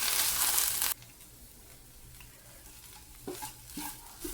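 Ground paste for a gasagasalu (poppy seed) curry frying in a pan: a loud, hissing sizzle at first, then a quieter steady fry with occasional stirring scrapes, close by and without speech.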